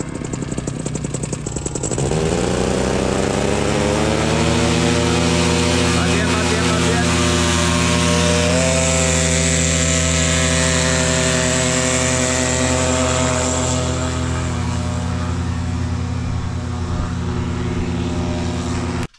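A powered paraglider's motor spins up for takeoff, a steady loud droning buzz whose pitch climbs in the first seconds and then holds a sustained, slightly rising whine throughout.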